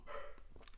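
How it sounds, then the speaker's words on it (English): A dog barks at a passer-by, a short single bark followed by a couple of faint yips, somewhat distant and quiet, with no talking. "Oh, I hear Linus, our dog, barking at somebody going by"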